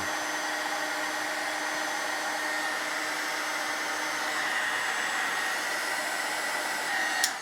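A mini heat gun blows a steady, unbroken whirring hiss, fairly close, while shrinking heat-shrink connectors on LED light bar wiring for a Honda Pioneer 1000. A brief small knock sounds near the end, with no talking.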